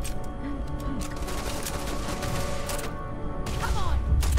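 Suppressive gunfire in the game Starfield: a dense stretch of repeated shots and impacts rattles throughout, with sharp cracks scattered over a busy combat din and heavier thuds building toward the end.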